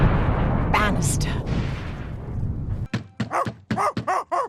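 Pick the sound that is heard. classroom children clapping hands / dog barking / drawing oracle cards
dog barking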